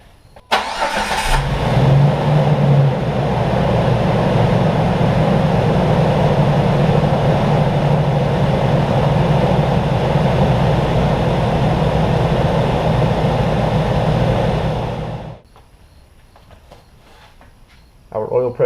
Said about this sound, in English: we're going to go ahead and start the Jeep and make sure that it has full oil pressure